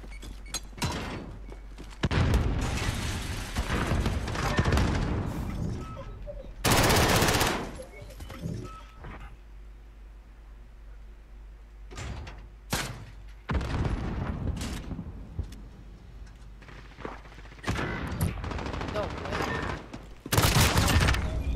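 Bursts of rapid video game gunfire with booms, coming in several loud clusters separated by quieter stretches, with a player talking between them.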